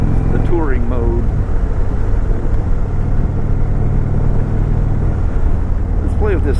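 A 2019 Indian Chieftain Dark Horse motorcycle on the move gives a loud, continuous engine and wind roar close to the rider, with a voice speaking briefly near the start and end.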